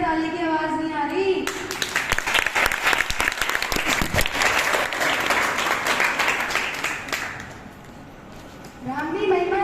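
An audience at a school seminar in Delhi breaks into clapping, a dense, loud burst of many hands lasting several seconds before fading, with a voice speaking briefly at the start and again at the end.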